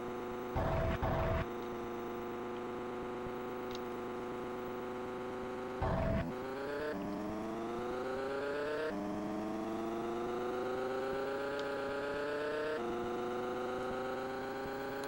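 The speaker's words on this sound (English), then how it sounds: "Just the great sounds of the car." A car engine drones in the 3DO racing game Autobahn Tokio with music turned off: a steady buzzy tone climbs in pitch, drops at each gear change, then climbs again. A couple of short crashing bursts cut in, and nobody talks.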